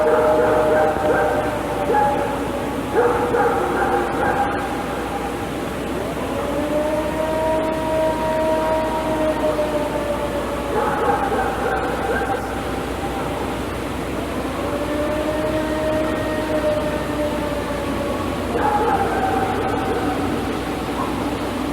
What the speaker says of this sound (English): I'll throw those up here too so you guys can hear what the Ohio howls are.